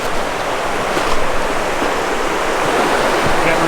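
River water rushing steadily through rock pools on a Dartmoor walk, a dense continuous wash of flowing water close by, with faint talk beneath.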